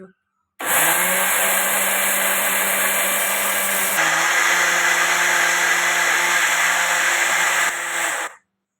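A mixer grinder whirs at full speed, pulverising dried amla into fine powder; a loud, steady motor roar with a slight pitch shift midway, starting and stopping abruptly.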